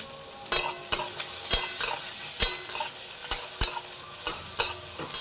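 Fourteen kinds of chopped leafy greens frying in a pan, a soft steady sizzle punctuated by repeated sharp metallic clinks and scrapes of a spatula against the pan, close up.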